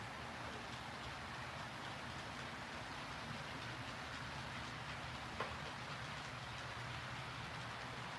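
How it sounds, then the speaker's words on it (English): A model Santa Fe train runs on a layout laid with Code 83 track with brown ties, giving a low, steady rumble with faint clicking that carries evenly throughout, plus one brief sharp tick near the end. "It's coming with the Santa Fe train."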